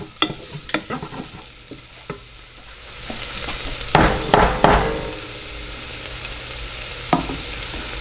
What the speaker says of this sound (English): So I'm just working it in, letting the dried Italian seasonings get a little bit moist from the onions and peppers.